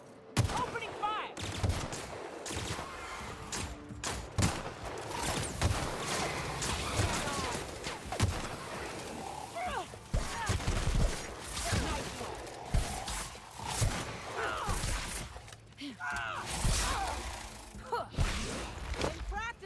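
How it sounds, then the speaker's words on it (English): Sustained rapid gunfire in a sci-fi game firefight, bursts of shots layered densely over a busy mix with occasional voices and crashes throughout. "Opening fire!"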